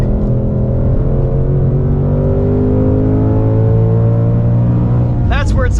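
A 2024 Ford Mustang Dark Horse with a Tremec manual revs hard on a race track, a loud, steady V8 engine roar holding high revs throughout, with a brief voice near the end.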